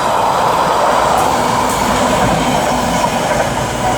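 Class 221 passenger train passing through Stafford on the West Coast Main Line, a loud, steady rumble of wheels on rail with a faint squeal near the top, close by and continuous throughout.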